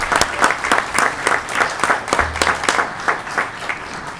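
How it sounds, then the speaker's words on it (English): Rhythmic applause from an audience at a board of regents meeting, many hands clapping in a steady pulsing beat for about four seconds, moderately close with no talk. "So a round of applause."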